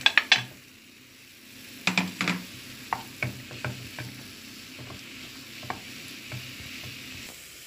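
About 30 grams of butter melts in a pan for a chocolate fondant, giving a soft, steady sizzle broken by scattered utensil scrapes and taps, loudest at the start, with no talking.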